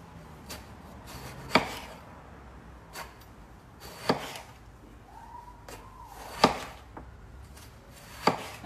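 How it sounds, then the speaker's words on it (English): A knife cutting eggplant on a board, four crisp separate chops spaced a couple of seconds apart with faint handling noises between, close and fairly quiet. "you just want to try and cut them evenly so that they cook evenly"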